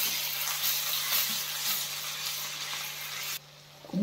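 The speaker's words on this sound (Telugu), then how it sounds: "కొంచెం అల్లం పేస్ట్, పచ్చివాసన పోయేలాగా వేసుకోవాలి." Ginger paste fries with turmeric in a pan as part of a bitter gourd fry, giving a steady, close sizzle that cuts off abruptly near the end.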